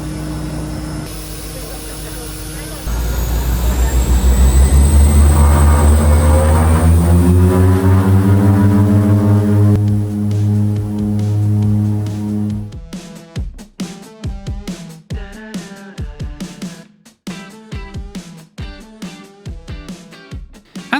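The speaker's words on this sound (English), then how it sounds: "with both engines actually running, we lumbered into the Caribbean sky" A twin-engine propeller airplane on a Caribbean flight taxis out and takes off, its engines swelling into a loud, rising roar with a climbing propeller tone. The aircraft drones steadily before giving way to choppy, broken bursts of sound near the end.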